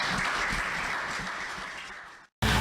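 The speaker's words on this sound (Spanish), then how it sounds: "Le ruego que la recibamos con un aplauso." An audience at an evening talk on urban parks and health applauds in a full, sustained burst of clapping that fades slightly, cuts out briefly, then returns at full strength.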